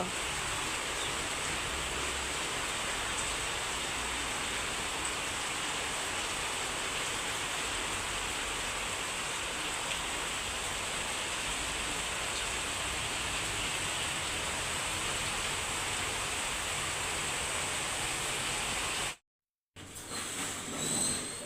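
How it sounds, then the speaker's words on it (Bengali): Sudden rain pours steadily as an even, dense hiss that lasts throughout, with a brief dropout near the end before it resumes. "হঠাৎ করে বৃষ্টি পড়তেছে দেখেন"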